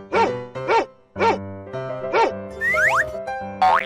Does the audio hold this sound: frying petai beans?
no